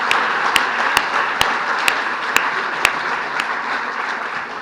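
A graduation ceremony audience gives sustained applause from a large crowd, a dense steady roar of clapping with a few sharp louder claps standing out.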